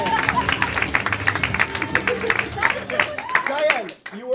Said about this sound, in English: let's keep that round of applause going for Diane